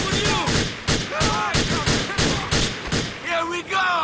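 Gunfire in the video game GTA IV during a gang shootout at a funeral, a rapid series of loud, close shots in quick bursts, with voices and game sounds mixed in between.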